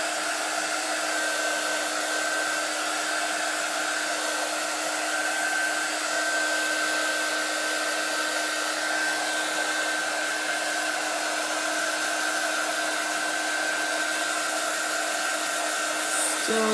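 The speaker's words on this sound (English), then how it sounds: "That quick dry tool does what it's supposed to do with chalkboards and when you're using very minimal amount of chalk paste." A handheld quick dry heat tool blows steadily on chalk paste over a chalkboard, a loud, constant hair-dryer-like whir with a steady tonal hum, running unbroken and close until it cuts off at the very end.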